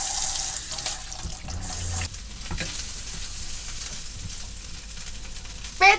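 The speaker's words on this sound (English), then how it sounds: "we'll get the kettle on as well" A tap runs water into a kettle aboard a narrowboat, a steady close hiss and splash lasting several seconds with small changes in flow and a short clatter near the end.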